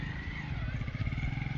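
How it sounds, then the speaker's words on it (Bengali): A motorcycle engine runs steadily nearby outdoors after bathing at a scenic spot, with a low rumbling drone and a continuous mid-range whine throughout, no talking. "মোটরসাইকেল"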